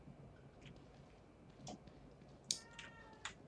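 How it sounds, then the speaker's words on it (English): A cat meows in the survival horror game The Evil Within 2, a few short, fairly faint mewing calls over a low ambient hum, with a couple of sharper clicks in between. "A cat."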